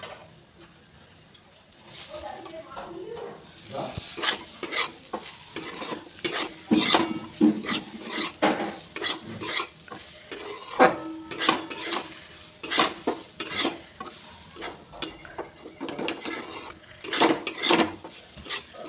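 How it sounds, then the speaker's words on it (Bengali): Semolina frying in a pan while being stirred, with raisins added: repeated close scraping and clinking strokes of a spoon against the pan over a soft sizzle, growing busier and louder midway. "সুজিটা আমি কতক্ষণ ধরে ভাজলাম"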